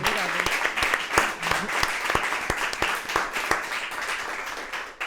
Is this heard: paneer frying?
no